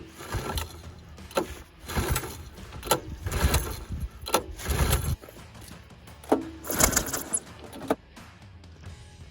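A 1984 Honda ATC 200S three-wheeler, long seized and sitting, with weak spark and choked, is pull-started repeatedly: several rough, strained recoil pulls with mechanical clatter and brief sputters, close up and without any voices.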